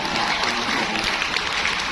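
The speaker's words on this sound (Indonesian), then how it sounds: "Tepuk tangan dong JSN" An audience applauds for a charismatic community group, a steady, dense wash of clapping that fills the whole moment.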